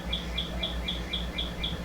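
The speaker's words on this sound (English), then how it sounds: "7 o'clock and the birds are chirping" Small birds chirp in the morning with a rhythmic run of about seven high, quick tweets evenly spaced over a low background hum, faint and somewhat distant.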